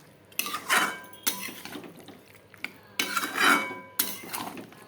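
Mutton being stir-fried in a pan for kosha, with clinks and scrapes of a utensil against the pan coming in several loud, bursty passes separated by quieter moments, close and with no talking.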